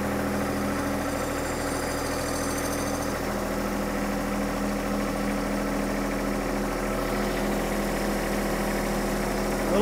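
John Deere 120R loader tractor engine idling steadily as the bucket is leveled, a loud, close, continuous low rumble with a constant droning hum and slight mechanical whine.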